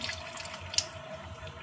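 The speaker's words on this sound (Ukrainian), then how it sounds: "Набираємо води" Tap water runs into a saucepan in a home kitchen as it fills before potatoes are boiled, a steady close splashing stream with no voices.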